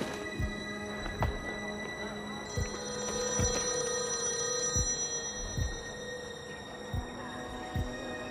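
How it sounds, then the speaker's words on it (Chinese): A mobile phone rings muffled inside a bag, a repeating electronic tone over a low rhythmic throbbing pulse, fairly faint and steady, with no talk. "电话突然响了"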